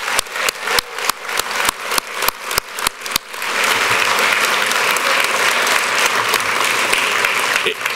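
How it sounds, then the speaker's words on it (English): An audience applauds hall of fame inductees at a sports ceremony, first with a few sharp separate claps, then swelling into loud, sustained clapping from a large crowd that fills the room. "let's give all of our inductees a round of applause."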